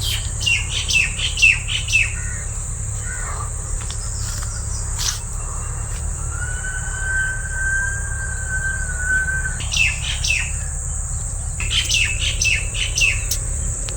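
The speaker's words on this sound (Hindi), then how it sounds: "व्यूअर्स आवाज़ तो सुनियो सी सुबह सुबह किवें पक्षी आवाज़ कढ़े खूबसूरत जी" Morning bird chirps come in short bursts over a steady, high insect drone and low background hum, with a long whistled call in the middle.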